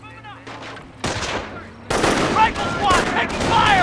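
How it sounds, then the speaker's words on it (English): Gunfire in the Company of Heroes strategy game as a rifleman squad comes under attack: sharp rifle cracks, then dense overlapping bursts of machine-gun fire that grow louder and busier, with a voice speaking over the battle. "Rifle squad taking fire!"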